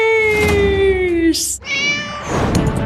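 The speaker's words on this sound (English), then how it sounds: "Plus, cats. They're the most popular pet in America." A cat meows in two drawn-out, tonal calls with a brief break between them, loud and close, set against a soft background hum.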